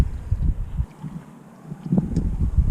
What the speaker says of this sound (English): this wind is absolutely destroying me